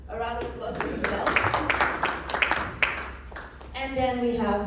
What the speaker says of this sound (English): a round of applause for himself